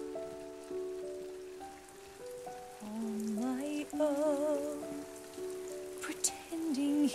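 Steady rain from a rain effect on a film set patters across a surface while a voice sings a slow, wavering melody over it.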